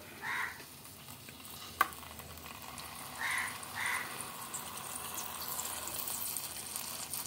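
A spoon stirring eggs with salt, chili and pepper powder in a pan for egg masala curry, with faint sizzling, a few soft scraping strokes and one sharp tap against the pan, quiet and unaccompanied by talk.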